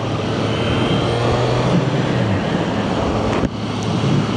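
Steady, loud wind roar buffets the microphone while riding a motorcycle on a hot, dusty road, a continuous broadband rush with no pauses.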